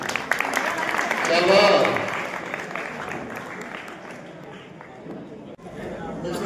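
Crowd applause at a school prize distribution ceremony swells to a peak and then continues more softly under voices and murmuring chatter.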